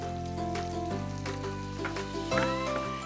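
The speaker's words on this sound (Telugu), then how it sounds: "ఇందులో సాసేజెస్ రెండు కూడా వేసి ఫ్రై చేసుకుందాం" Sausages frying with garlic in a pan, a steady close sizzle running throughout with a faint hum or tonal noise beneath and a few brief clatters of movement.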